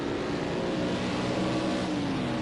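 Race cars at Brands Hatch produce a continuous, dense engine drone, with a rising and falling tone as a car accelerates past, and no voices.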